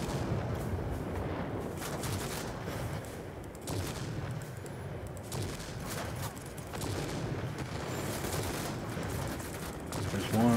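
A JU 88 fires 37mm cannon rounds in World of Warplanes, heavy booming shots repeating at an uneven pace over a continuous loud engine roar.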